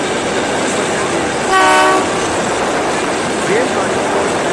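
A train on a rail journey through rough terrain, hills and forest rumbles steadily along, and a loud horn blast sounds once midway before the rolling noise continues.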